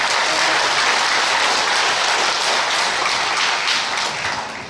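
A church congregation claps together in a loud, dense, steady roar of hands that carries without pause for several seconds and eases off slightly at the end.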